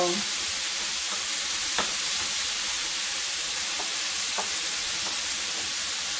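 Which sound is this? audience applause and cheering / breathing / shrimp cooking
shrimp cooking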